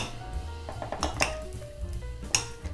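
A spoon clinks and scrapes in a salad bowl as cut potatoes are stirred into a sauce for a potato, herring and pickle salad, with sparse, close taps and a couple of sharper knocks against the bowl.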